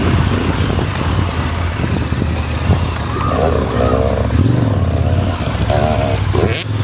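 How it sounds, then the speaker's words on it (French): A KTM 1290 Adventure S motorcycle engine roars continuously while riding off-road, loud and close. The engine pitch rises and falls, with heavy wind buffeting on the microphone throughout. "Oh là là, c'est une vraie bécane de off-road."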